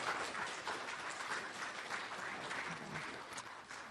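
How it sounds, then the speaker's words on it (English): An Alaska Native Sisterhood plenary audience in Sitka gives a panel of women a round of applause, continuous full clapping at a fairly distant, quiet level that eases slightly toward the end. "So please give them another big round of applause."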